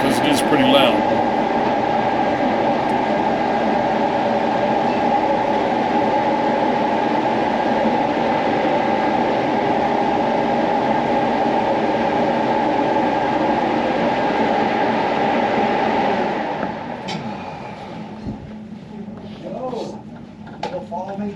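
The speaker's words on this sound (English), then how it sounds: "that is part of the ventilation system keeping the air in the mine fresh" A mine ventilation system inside the Queen Mine in Bisbee, Arizona roars loudly and steadily for about sixteen seconds, then cuts off, leaving quieter room sound with some faint voices.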